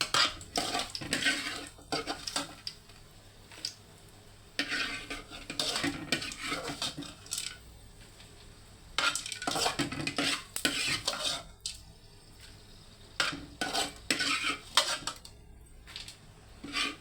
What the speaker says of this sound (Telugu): ఆ ఆయిల్లోనే గోంగూర కూడా వేయించాలి, బాగా వేగాలి గోంగూర కూడా